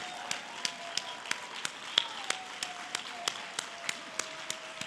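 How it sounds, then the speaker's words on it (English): A standing audience at a conference session claps together in a slow, even rhythm, about three claps per second, each clap crisp but fairly faint against a quiet hall. "Let's just stand up and really clap for ourselves."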